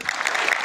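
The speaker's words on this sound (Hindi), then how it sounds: "एक बार ताली होनी चाहिए भाई।" Brief burst of steady clapping from an audience in an auditorium in Bharatpur, India, during a speech.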